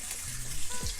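Tap water runs over Brussels sprouts being rinsed in a sink, a steady close trickle and splash for about a second with no voices.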